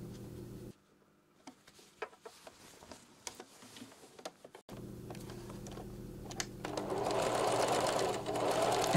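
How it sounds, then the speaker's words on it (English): A sewing machine sews across the boxed corners of a messenger bag. Faint ticks and handling noises come first, then a steady stitching run builds and gets louder toward the end. "Now open up those corners and simply sew across it,"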